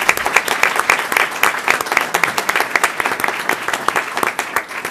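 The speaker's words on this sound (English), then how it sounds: "How about a round of applause for these young men?" A board meeting audience applauds, many hands clapping in a lively, continuous patter with uneven peaks, fairly loud and close throughout.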